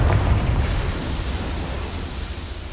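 A Confringo fire spell blast in Hogwarts Legacy, a heavy explosive boom at the start that rolls into a long, low, fading rumble, loud and close with no talk.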